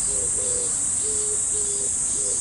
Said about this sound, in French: les oiseaux, les cigales, non-stop